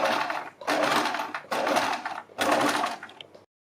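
Sewing machine stitches alongside buckram on a garment sleeve in four distinct bursts of rapid whirring, each lasting under a second with short pauses between, close and clear, ending abruptly.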